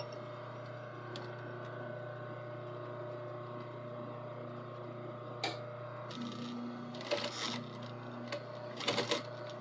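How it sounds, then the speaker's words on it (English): A sewing machine stitches a ring holding a lens in place, running as a steady low mechanical whir with a few brief clicks and handling noises near the end. "this one is stitching through the lens and keeping it in place"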